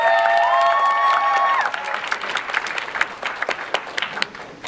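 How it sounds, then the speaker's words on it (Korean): An audience claps and cheers steadily after a held musical tone fades, the applause dense and moderately loud throughout, at a hip-hop, dance and vocal concert showcase. "박수를 더 크게 주셔야 합니다"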